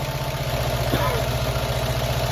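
A classic Fiat 500 engine idles steadily just after an idle screw adjustment, a loud, close, even chugging throb with a constant high whine, and no voices over it.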